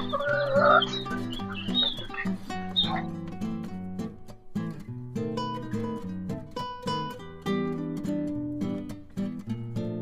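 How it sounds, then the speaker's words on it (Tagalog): Chickens clucking and squawking nearby in rural Cuenca, Batangas, Philippines, with repeated rhythmic tapping or pecking over a background of steady music. "Ang mga manok po ay parang tao rin na 3 beses kumain"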